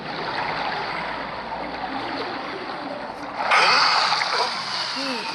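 A character jumps into water in GTA 5 on mobile, and a loud game splash bursts in about halfway through, followed by a burst of churning water over a steady background of game noise.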